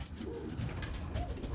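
Roller pigeons in a loft give soft, low cooing amid steady background hiss and rustle, fairly close and continuous, with no voices.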